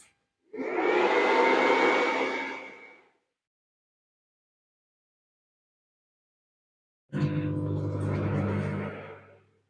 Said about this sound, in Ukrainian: Мікрохвильовка заявлена потужністю 700 Вт, а на інверторі видає майже кіловат.